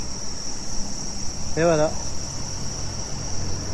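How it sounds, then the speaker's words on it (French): Cicadas and crickets keep up a steady, high insect drone near a waterfall in Hiratsuka, Kanagawa, with a constant rushing wash underneath. A voice speaks briefly in the middle. "les cigales et les grillons qui ont déjà commencé à chanter"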